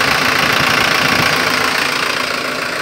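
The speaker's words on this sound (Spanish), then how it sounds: "Jack 1063 con penta en la turbina, turbo BorgWarner, motor Cummins 4DT." A Jac 1063 truck with a Cummins 4BT diesel engine and a BorgWarner turbo fitted with a whistle tip on the turbine, running at a loud, steady idle with a rough, rattling hiss.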